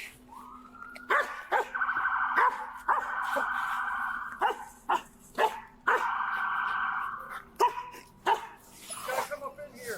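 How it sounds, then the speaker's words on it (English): A police dog on a leash in a wooded area barks sharply and whimpers in strained, rising whines between bursts of barking, close and loud. "That dog trying to get active."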